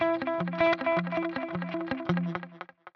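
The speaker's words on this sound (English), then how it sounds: "Okay, let's crank up some repeats here." Echo Moon delay pedal with its repeats turned high, run in front of the amp after a Fuzz Imp Furia distortion: a loud distorted electric guitar riff whose picked notes trail off into echoing repeats, ending in scattered decaying echoes.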